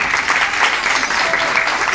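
Studio audience applauding a male contestant on a magician's game show: dense, continuous clapping from a crowd, loud and close throughout with no break.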